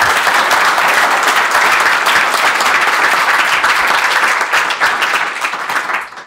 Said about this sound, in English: I want a big applause.